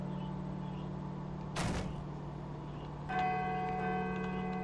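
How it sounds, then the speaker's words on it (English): A church bell tolls inside a horror video game, one struck ring followed by a sustained metallic hum with ringing overtones, quiet under a steady low drone, no voices. "I should let the bell finish ringing first."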